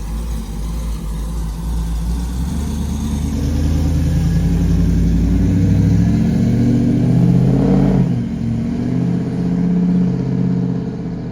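A 1000hp Ford F-150 truck engine revs hard at full throttle, a loud sustained roar that climbs and holds before dropping off, then surging again, heard alone and close.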